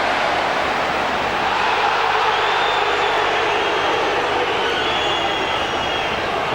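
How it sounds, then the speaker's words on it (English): Football crowd at Huddersfield Town against Charlton Athletic in 1999 produces a steady, dense roar. It sounds distant and continuous, with no distinct voices standing out. "There's all sorts of crowd noise going on here"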